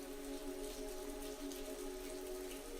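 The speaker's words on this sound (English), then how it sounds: "The rhythmic patter of rain outside only added to the comforting atmosphere" Rain patters steadily outside a coffeeshop in Venice, a soft continuous wash of drops with a gentle tonal hum running underneath.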